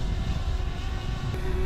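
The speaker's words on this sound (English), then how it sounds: "the drone is hovering behind me" A DJI Mavic Air drone hovers nearby, giving off a steady, loud whirring propeller drone with a constant high whine, no voices heard.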